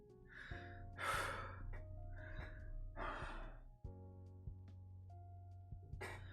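A voice imitates the deep, labored breathing of a wounded character in a zombie tabletop role-playing game. Several heavy gasping breaths come in bursts over a steady low hum.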